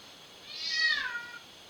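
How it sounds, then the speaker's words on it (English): A domestic cat gives a single drawn-out meow, rising then falling, fairly close and clear against a quiet room with no talking. "That noisy cat is"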